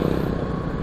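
A motorcycle passes close by in traffic, heard from a Vespa Sprint 150 3V scooter, as a brief loud engine rumble with clattery texture lasting under a second.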